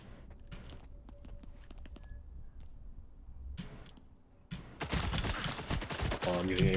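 Pistol shots from the Skif's pistol in Stalker 2 ring out in quick bursts, with some clicks and sharp cracks amid game ambience and louder muddled noise toward the end.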